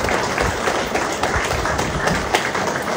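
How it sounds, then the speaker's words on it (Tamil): A gathered audience at a Tamil health talk on heart attacks claps together in loud, sustained applause, a thick continuous patter of many hands filling the room from start to finish. "நாம் கைத்தட்டி மகிழ்ந்து வாழ்த்து சொல்ல"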